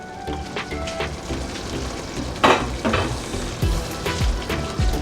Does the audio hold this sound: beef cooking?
yes